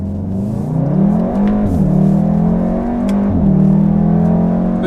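A 2016 Volkswagen Golf R with traction control switched off accelerating hard, its engine note climbing steadily and loud from inside the cabin, with two quick dips where gear changes break the rising drone.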